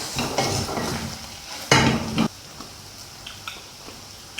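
A spoon scrapes and stirs through chicken samosa filling in a pan as salt is mixed in, with a few sharp clinks against the pot and a louder scraping burst midway, close and without talk.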